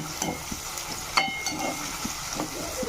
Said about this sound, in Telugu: ఆయిల్ హీట్ అయిన తర్వాత నాలుగు పచ్చిమిరపకాయలు అలాగే ఒక రెండు పెద్ద సైజు ఉల్లిపాయలు కట్ చేసుకుని ముక్కలుగా వేసుకోవాలి